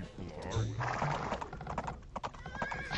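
Horse archers in a video game gallop with rapid clip-clop hoofbeats and sharp neighs, mixed with game effects and clicking, while a commentator talks over the action.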